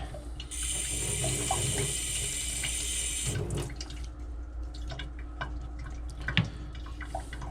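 Water is poured from a tap onto a whetstone to refresh the slurry during razor honing, a steady hissing trickle that stops after a few seconds and is followed by faint drips and small taps.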